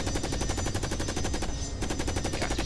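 A machine gun fires in a rapid, even burst during a strafing run in the video game Carrier Command: Gaea Mission, loud and close, with a brief dip before the rattling resumes.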